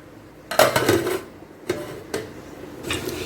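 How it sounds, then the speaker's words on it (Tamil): Several sharp metallic clanks ring out in quick succession, then two more spaced hits, like a lid being set onto a pot of simmering Sankara fish curry. "நல்லா மூடி வச்சிடலாம்"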